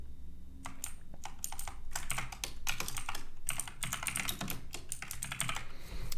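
Rapid typing on a computer keyboard while editing an Emacs configuration file, with dense clusters of crisp key clicks and short pauses between bursts, close and steady over faint background hum.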